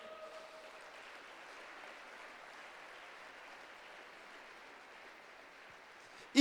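Sustained applause from a church congregation, a soft even wash of clapping that carries on steadily throughout, with a sudden bump at the very end.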